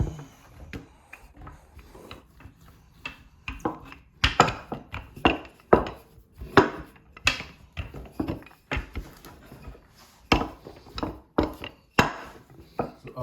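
Carrot coco bread dough rolled out on a floured table, giving a series of soft, irregular knocks and thuds as the rolling pin works, fairly close and with no talk.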